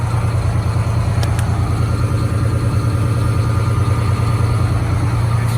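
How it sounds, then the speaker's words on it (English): A diesel truck engine idling during a forced regeneration, a steady low rumble with constant hum and no revving, close and loud throughout, with no speech. "You can hear the truck in the background."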